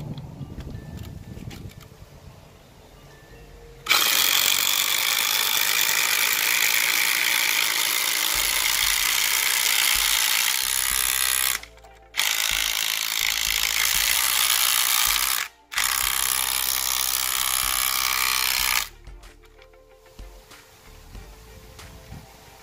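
DeWalt and Rockwell power drivers run a lag screw into wood through a predrilled hole, producing loud sustained bursts of motor whine and ratcheting impact, broken by short pauses between runs.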